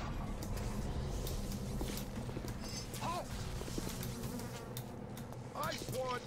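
Swarm of bees buzzing in the video game BioShock, a dense, continuous droning hum with scattered clicks and chirps, fairly quiet and steady throughout.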